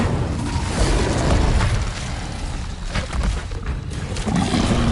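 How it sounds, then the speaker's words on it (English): The Incendio fire spell cast in a video game: a loud, roaring burst of flame that swells and rumbles continuously, heavy and close. "Incendio!"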